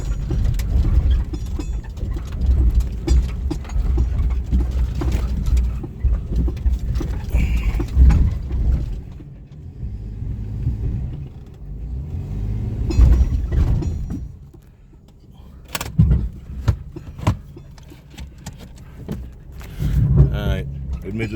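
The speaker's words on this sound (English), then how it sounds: "I just kicked into 4-wheel drive." An off-road vehicle shifted into four-wheel drive on a rough pre-run trail, its engine rumbling loudly and steadily with bumps and clatter, rising and dipping with throttle, while people talk over it.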